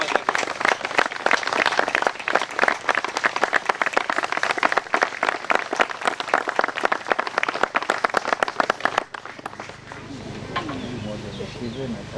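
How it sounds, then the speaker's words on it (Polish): A hunting club crowd applauding its founder at a St. Hubert chapel consecration, with dense lively clapping for about nine seconds that then stops and gives way to quiet murmuring talk. "Duże brawa dla Ciebie."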